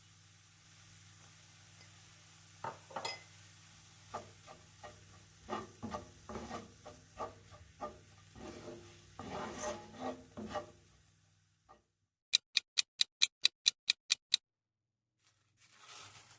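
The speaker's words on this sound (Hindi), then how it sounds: "थोड़ी सी पीसी हुई काली मिर्च शामिल करेंगे और इसे अच्छी तरह से मिक्स कर लेंगे।" Ground black pepper is mixed into cooked carrots with a series of soft, uneven scraping and stirring strokes up close, followed by a quick run of about ten sharp taps, then quiet.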